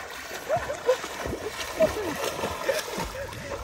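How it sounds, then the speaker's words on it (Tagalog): Rushing, splashing water from a moving river current, with people talking over it nearby. "Lakas ng current ng tubig."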